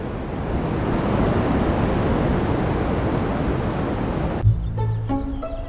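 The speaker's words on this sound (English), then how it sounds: "This sound is the first evidence of the Big Bang." Radio noise of the cosmic microwave background, left over from the Big Bang and picked up by a horn reflector antenna, plays as a steady even hiss, cut off near the end by a short tonal sound.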